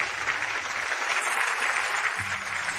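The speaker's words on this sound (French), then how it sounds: "Merci pour vos applaudissements." An audience applauds steadily at a fashion show as the designer of the collection is welcomed, a dense, even wash of clapping throughout.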